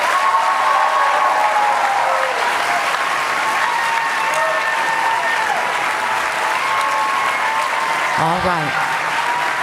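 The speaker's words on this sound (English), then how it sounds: "Now you can applaud." Audience applause at a Wisconsin U.S. Senate candidates' debate, sustained and loud throughout, with a brief spoken phrase near the start.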